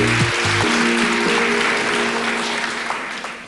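A studio audience applauds steadily on a TV show, dense even clapping throughout, with brief musical tones at the start.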